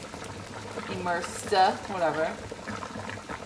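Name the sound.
water boiling with lasagna noodles in pot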